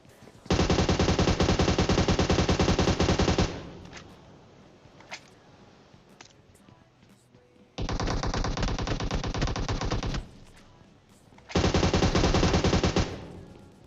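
Automatic weapon fire in PUBG Mobile comes in three long sustained bursts, loud and rapid, separated by quieter gaps with faint scattered shots, no speech over it.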